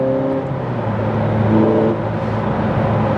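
A 2008 Ferrari 430 Scuderia engine roars and revs steadily for a few seconds, loud and close, its pitch rising and falling slightly with no voices.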